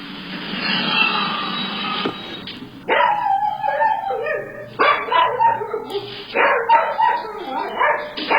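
A dog left home alone, caught on an indoor home camera, barks and yelps in panicked bursts, close and loud, with short pauses between volleys and whimpering edges.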